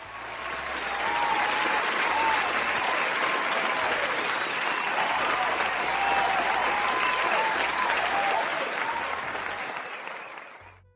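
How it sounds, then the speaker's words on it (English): A sustained round of applause from a crowd, played as a sound effect on a live news stream, dense and steady for about ten seconds, swelling in quickly and tapering off at the end, with no talk over it. "here's that little round of applause"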